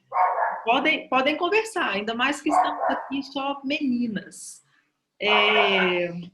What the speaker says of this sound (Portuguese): tem um cachorro latindo aqui